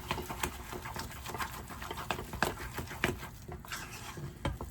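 A spoon scrapes and slops through a thick cheese pudding mixture with a pinch of salt in a bowl, giving soft irregular wet patters and clicks, fairly faint and close.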